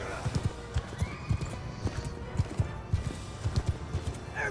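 Cavalry horses in the battle game Mount and Blade II: Bannerlord pound forward in steady, rhythmic clip-clopping hoofbeats, with occasional neighs and a busy battlefield background.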